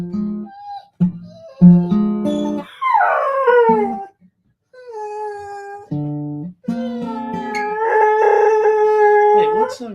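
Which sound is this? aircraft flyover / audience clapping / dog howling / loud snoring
dog howling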